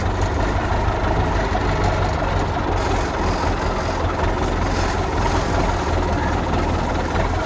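A tractor engine runs steadily at a low idle-like rumble out on hilly scrubland, close and constant for the whole stretch, with no voices over it.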